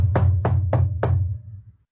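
Four firm knocks on a door land in an even rhythm, close and solid, each with a short resonant thud, followed by quiet.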